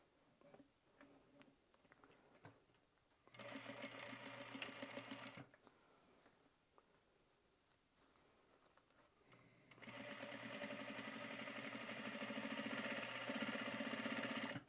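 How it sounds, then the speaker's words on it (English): A sewing machine runs a straight stitch through a shirt in two fast, steady bursts of whirring motor and needle patter, with quiet pauses before, between and after. "all we're gonna do is just put a straight stitch to, again, to sew it down with the shirt"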